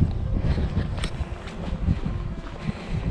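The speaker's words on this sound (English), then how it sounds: "It's a nice sunny day, a little bit cool, a little bit windy" Cool wind on the open grassy plains of the Curragh buffets the microphone in low, uneven gusts, with faint rustling and soft footsteps of someone walking, no talking.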